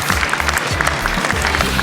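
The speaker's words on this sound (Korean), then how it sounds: "박수 보내주세요" Audience applause at a Korean youth talk concert, a dense steady patter of many hands clapping throughout, fairly loud, with a low rumble of music or voices underneath.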